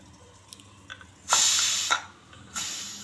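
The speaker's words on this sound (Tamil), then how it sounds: "ப்ரெஷர் ரிலீஸ் ஆகிடுச்சு" A pressure cooker holding pulao vents steam in two sharp hissing bursts, each about half a second to a second long, close and loud, preceded by a few small clicks and drips.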